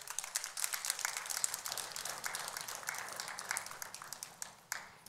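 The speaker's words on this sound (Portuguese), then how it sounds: "Vamos aplaudir o Senhor, irmãos?" A church congregation applauds in worship, producing a faint, steady wash of many hands clapping together for several seconds before the sound thins out.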